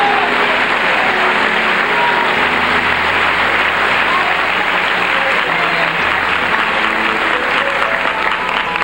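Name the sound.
church congregation clapping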